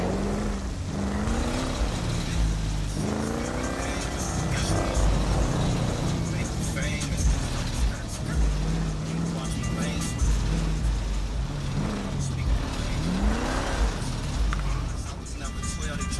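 Car driving in GTA V, a steady engine drone with pitch rising and falling through gear changes, continuous and fairly loud under someone talking over it.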